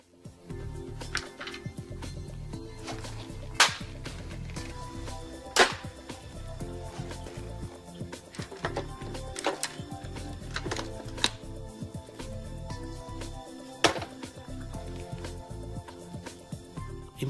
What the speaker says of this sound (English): Now let's remove the intake manifold.